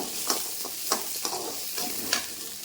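Ginger and garlic sauté with onions in a pan for mushroom curry, with a steady sizzle broken by about five sharp scraping stirs of a spoon against the pan.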